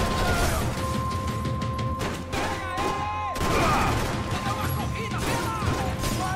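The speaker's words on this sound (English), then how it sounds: "Grenade!" Explosions and gunfire in the video game Max Payne 3: a grenade blast and crashing impacts amid rapid bursts of shots, loud and chaotic throughout, with brief quieter gaps.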